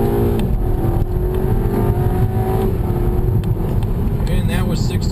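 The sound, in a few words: 2011 Audi A3 launch control acceleration to 60 mph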